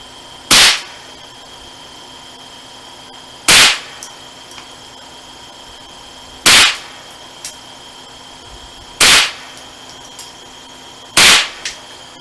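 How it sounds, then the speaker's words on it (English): Five suppressed .22 Long Rifle shots through a Night Hawk SQ suppressor, evenly spaced about two to three seconds apart. Each is a sharp, loud, brief crack over a steady low hum. "we'll let Brent fire, 2 or 3 shots and let you hear and see what"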